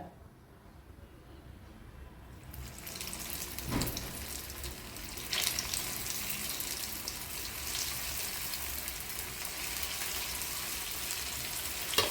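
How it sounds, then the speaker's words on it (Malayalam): Vegetable semiya masala vadas drop into hot oil and set off a steady, rising sizzle that holds for several seconds, with a brief clatter midway and a voice speaking over the frying. "ഈ ചൂടായ എണ്ണയിലേക്ക് നമ്മൾ ചെയ്ത് വെച്ചിരിക്കുന്ന ഓരോ വടകളും നമുക്ക് ഇട്ട് കൊടുക്കാം."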